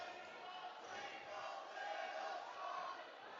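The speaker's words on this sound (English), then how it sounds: "The Snohomish crowd is really laying into Shorewood here" Home crowd at a Snohomish high school basketball game jeers the visiting Shorewood team, a faint, distant wash of massed voices rising and falling steadily throughout.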